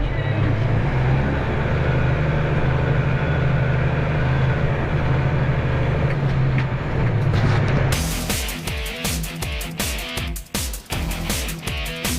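A Case tractor loading hay bales runs with a steady low engine drone, then shifts into louder irregular clattering and knocking as it moves forward, close by.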